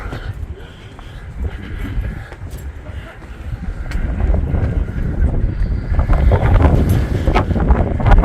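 Wind blowing outdoors at the port of A Coruña, Spain, near the Tower of Hercules lighthouse, a steady rough rumble buffeting the microphone that grows stronger in the second half, with faint background activity.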